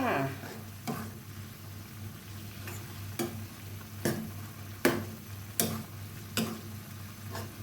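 Bamboo shoots and minced pork bubbling and sizzling in a pan, with a steady low simmer and a series of sharp clicks or taps at irregular intervals, close and moderately quiet.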